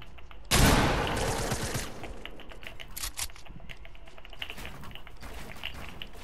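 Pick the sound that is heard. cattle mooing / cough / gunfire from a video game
gunfire from a video game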